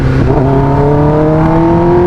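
A Kawasaki ZX10R sportbike accelerates hard on a clean open stretch, its engine note climbing steadily in a loud, close, rising whine with no talking.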